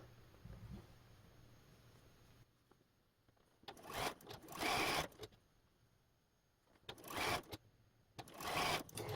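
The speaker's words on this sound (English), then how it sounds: "when I'm sewing the squares to the rectangle, I'm going to flip my seam" A sewing machine stitches quilt squares to a rectangle in several short bursts of stitching, fairly faint and close, with quiet handling of fabric between runs and no voices.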